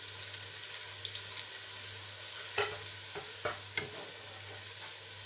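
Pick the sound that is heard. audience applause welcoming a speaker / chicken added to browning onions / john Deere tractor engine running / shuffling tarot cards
chicken added to browning onions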